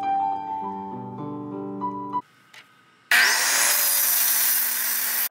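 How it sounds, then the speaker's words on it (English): A power saw whines through plywood, making an angled 60-degree cut for a pooja mandir gopuram, with a steady loud roar after a tonal lead-in and a brief pause. "Cutting plywood for gopuram. We cut a 60-degree angle on all the sides"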